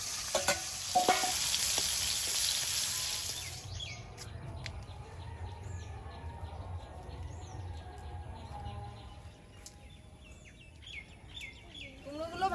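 A slice of pumpkin frying in oil in a village kitchen pan, a bright hissing sizzle at first that drops to a quieter simmer, with faint bird chirps outdoors in the background.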